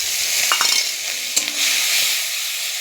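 Ginger and onion paste fries in oil in a pan with tomato, a bright continuous sizzle close by, with a few quick scrapes and a clink of a spoon stirring.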